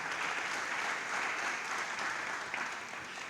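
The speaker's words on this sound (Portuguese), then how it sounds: "dá um aplauso a Jesus aí para animar." Church congregation applauding during a sermon, an even, continuous wash of clapping heard at a moderate distance, steady for the full three seconds.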